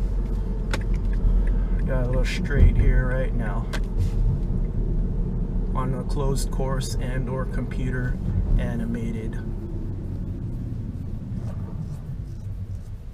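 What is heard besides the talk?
2007 Mazda3 2.3 accelerating 0 to 60 mph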